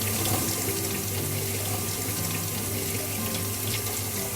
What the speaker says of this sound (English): I'm just going to give this a bit of a wash under the sink, under the tap